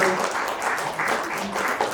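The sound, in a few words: audience applause at stock exchange listing ceremony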